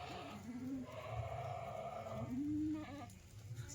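Kathiawari goats bleat nearby, two or three drawn-out wavering calls over a quiet farmyard background.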